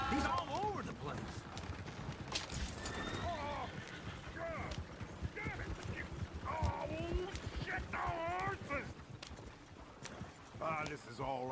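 Horse hooves clip-clop steadily in a Western-style video game, running beneath near-constant overlapping conversation among several voices throughout.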